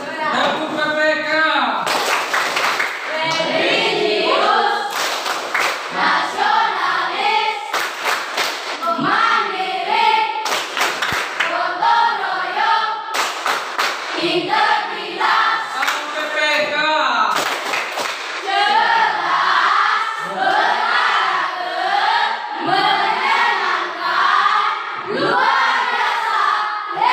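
A group doing the tepuk PPK ice-breaker clap, with sharp rhythmic bursts of hand clapping between stretches of chanted voices, close and lively.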